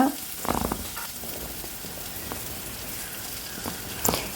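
Green chili, ginger, onion and curry leaves stir-fry in a pan with a steady sizzle, broken by a few sharp scraping stir strokes near the start, middle and end.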